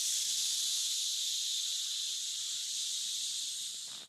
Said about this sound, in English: Steam release.